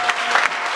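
Church congregation clapping in praise to God during a sermon in Bugesera, a brief burst of dense, steady applause with a few sharper claps standing out.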